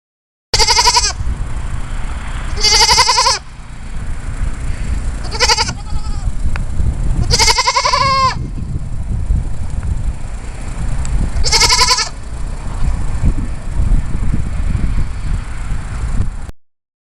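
Goats bleat in several loud, wavering calls spaced a few seconds apart, each a short quavering cry, over steady wind rumble outdoors on a farm.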